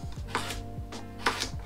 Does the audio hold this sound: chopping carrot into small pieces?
yes